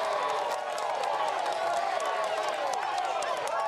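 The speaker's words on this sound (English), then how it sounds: "The crowd has just been getting bigger and bigger, and the atmosphere is pretty electric here in Namur." Large crowd at a cyclocross World Cup race in Namur, Belgium, a constant loud roar of many voices and cheering, with a commentator talking over it.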